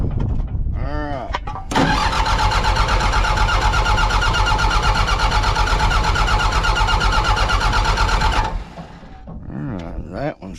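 Mitsubishi BD2F diesel dozer, revived after sitting for years, cranks with a rhythmic starter whir, then its engine catches and runs loud and steady for several seconds before dropping back to cranking.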